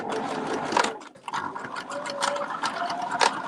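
A sewing machine stitching a zigzag seam, its needle chattering in short close bursts with brief pauses between runs, sewing forward and back.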